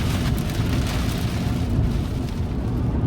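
Heavy rain and wind roar steadily against a Tesla Cybertruck driving on a highway through a thunderstorm, a loud, dense broadband wash with no pauses and no talk.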